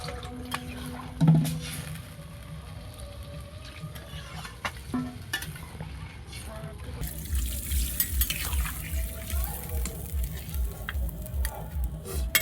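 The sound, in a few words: water poured into fish curry in cooking pan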